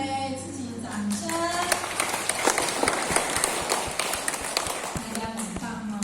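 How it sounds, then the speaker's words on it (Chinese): A group at a Buddhist hall class claps together, a steady patter of many hands over a low hum, with a brief voice at the start. "我们给自己掌声"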